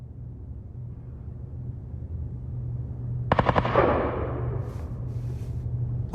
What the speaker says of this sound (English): We heard shots fired over here.